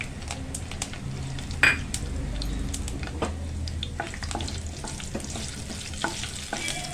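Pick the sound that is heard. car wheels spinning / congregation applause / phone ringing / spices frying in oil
spices frying in oil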